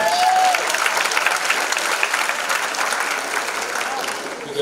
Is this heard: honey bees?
no